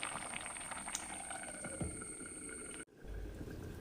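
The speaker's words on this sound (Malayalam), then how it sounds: "കറി നന്നായിട്ട് തിളച്ചിട്ടുണ്ട്." A pot of fish curry made with yellow catfish boils on the stove with a soft continuous bubbling and hiss, heard close and faint, then cut off abruptly near the end into a low rumble.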